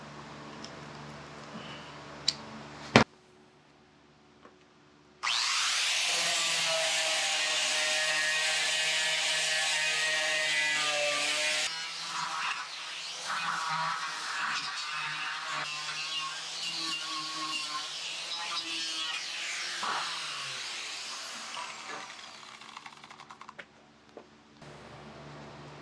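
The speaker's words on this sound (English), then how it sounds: "we're going to have to wire wheel this thing" Wire wheel grinding paint off a custom underdash gauge pod for a 1934 Ford Pomona panel truck, outdoors on a driveway: a loud, steady whirring, grinding roar that runs for about twenty seconds with shifting pitch, after a few clicks and handling sounds.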